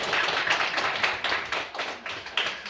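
A church congregation claps together, a fairly close, lively burst of hand claps with rhythmic pulses running through the whole stretch.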